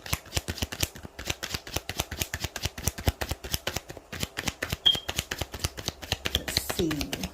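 Playing cards shuffled wildly and fast, a dense run of sharp riffling clicks and snaps, close and steady, with a faint voice late on.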